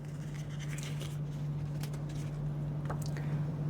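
A sanding sponge is dipped into water for wet sanding resin, giving faint, soft squishes and drips. The sounds are brief, close and quiet, over a steady low hum.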